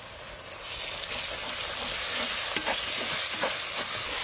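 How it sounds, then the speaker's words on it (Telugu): Ginger paste frying in hot oil in a pan with green chillies for a mutton masala, a steady close sizzle broken by repeated scraping stirs of a spoon. "అల్లం మసాలా పచ్చివాసన పోయే వరకు బాగా వేయించుకోవాలి"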